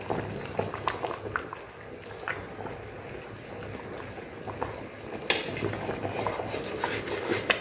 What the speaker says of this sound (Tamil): இப்போ குழம்புல விட்டு அரைச்சி வச்ச தேங்காய் லேசாக மீன் உடையாமல் கிண்டி விடணும்